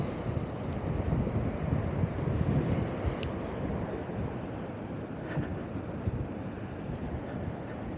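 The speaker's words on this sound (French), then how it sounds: "Ah, les belles vagues. Bon, on est à l'Atlantique" Atlantic ocean waves breaking by a caravan area at Los Caños de Meca, a continuous broad roar of surf mixed with wind rumble on the microphone, steady and fairly loud with no one speaking.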